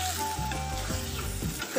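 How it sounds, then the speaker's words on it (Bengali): Food frying and sizzling in a pan on a gas stove, with a steady close crackling hiss and a few soft stirring scrapes, no talk. "যতক্ষণ না একটু ভাজা ভাজা হচ্ছে ততক্ষণ নামাবো না"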